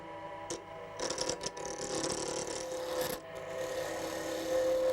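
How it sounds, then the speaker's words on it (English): A chisel turning down a block of wood on a lathe for a pen gives a continuous rasping, scraping rub over a low motor hum, with brief louder scratches, close and moderately quiet. "I would start to turn down the block of wood with the chisel"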